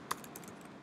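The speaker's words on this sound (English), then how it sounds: "I need to type out the URL." A computer keyboard is tapped to enter a web address: a couple of quiet, close keystroke clicks over a soft background hush.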